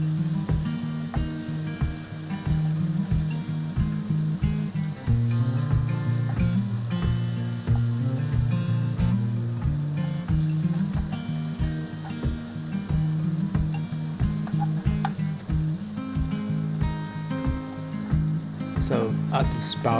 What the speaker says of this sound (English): Just give them a good stir, and we add the carrot as well. Just cook slowly.